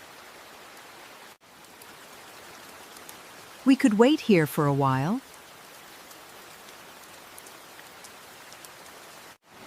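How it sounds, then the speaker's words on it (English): Heavy rain pours down in a steady, loud hiss that fills the whole scene, while a voice speaks briefly partway through. "The rain is very heavy now."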